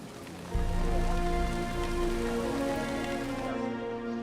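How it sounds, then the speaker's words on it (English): Constant tropical rain falls in the jungle. A dense, steady rush of rain swells in after a brief quieter start and then pours on evenly, with no voices over it. "There was constant tropical rain."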